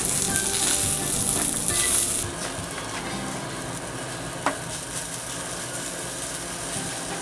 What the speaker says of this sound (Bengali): এখন আমি ভিতরটা সিদ্ধ হওয়া পর্যন্ত একটু ভেজে নেব।